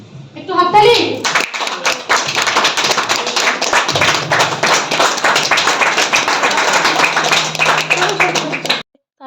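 An audience at a workshop claps hands in a dense, sustained round of applause lasting several seconds, close and loud, with a voice briefly heard at the start before the clapping cuts off.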